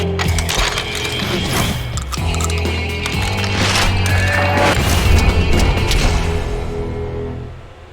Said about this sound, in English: This is an introduction scene for a shotgun.